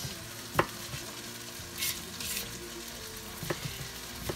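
Stir-frying pepper chunks and other vegetables for sweet and sour noodles in a hot pan, with a steady sizzling hiss, a few sharp clatters of stirring, and brief louder bursts of frying noise, close up and with no talking.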